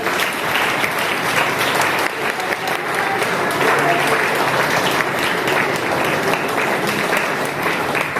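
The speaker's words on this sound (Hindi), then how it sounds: "तालियां बजाते रहिए" Sustained applause from a seated audience at a seminar in Balrampur, steady clapping over the full stretch with a murmur of voices underneath.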